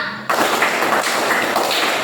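A burst of hand claps from children playing a clapping game at a Sunday school in GKS Wai Wei, Lindi Monung; a sudden loud onset, then a few more close claps over busy room noise.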